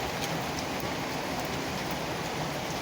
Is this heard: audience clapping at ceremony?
no